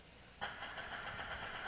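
Firefly Alpha rocket engine chill down before launch: a steady broadband hiss and rushing roar that swells abruptly after a brief quieter lead-in, then holds at a constant level with faint tonal streaks, no talk.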